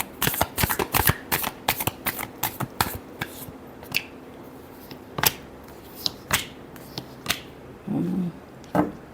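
Tarot cards being shuffled for a Leo reading, a run of quick crisp riffles and flicks close up, dense at first and then sparser taps, with a brief low murmur near the end.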